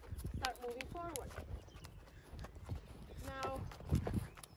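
Stormer, a horse being led by its handler, walks along behind on foot, with a few soft hoof clops under nearby talking and a small whinny-like call.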